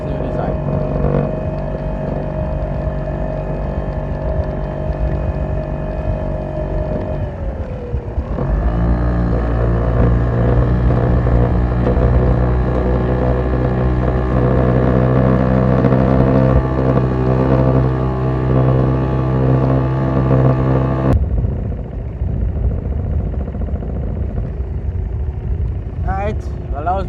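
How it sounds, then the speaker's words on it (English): A fishing boat's outboard motor roars steadily at full throttle in the Gulf, with constant engine drone, wind and slapping hull noise through choppy water, the pitch shifting as it crosses the chop. "Full throttle coming through the piece of rough there, the little chop."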